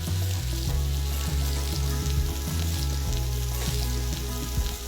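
Steak frying in butter with rosemary and garlic, a loud, dense, continuous sizzle close up, with a low steady hum underneath and no talking.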